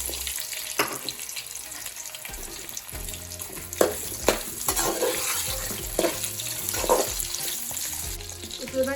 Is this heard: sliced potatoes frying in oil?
yes